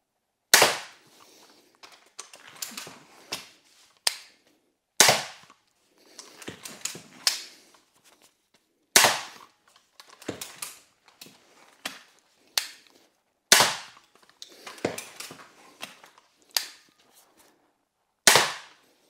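Sharp, snapping crossbow shots (X-Bow FMA Supersonic Tactical) ring out one after another at irregular intervals, each followed by brief rattling and clatter, with quiet gaps between.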